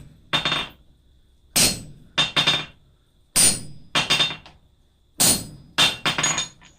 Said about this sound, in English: Now we're going to use our rivet set.